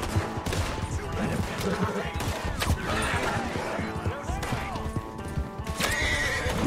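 In the video game Red Dead Redemption 2, a horse neighs loudly several times over clattering hooves, and bursts of gunfire ring out amid busy game sound.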